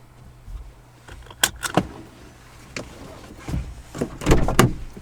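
A manual car's engine being shut off: a jangle of keys at the ignition, then a few clicks and thumps nearby, fairly quiet with a low hum beneath.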